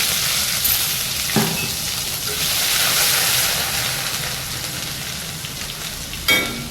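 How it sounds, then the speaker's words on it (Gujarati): Ginger, garlic and chillies sizzle in a carom-seed and asafoetida tempering over a very low gas flame, giving a steady, close frying hiss with a brief louder crackle near the end. "ગેસ એકદમ ધીમો કરી પહેલાં આદુ લસણ મરચાં એડ કરી દીધા."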